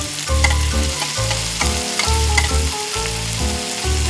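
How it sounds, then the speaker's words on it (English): Onions, garlic, tomatoes, carrots and green onions sizzle in hot oil in a miniature pan, a close, steady frying hiss broken by rhythmic stirring scrapes and taps, with no talking. "When the oil is hot, add onions and garlic to the pan."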